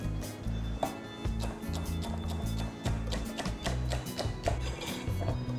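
Celery stalk's soft part sliced into small pieces with a knife on a board, a steady run of crisp, close taps and chops, fairly quiet.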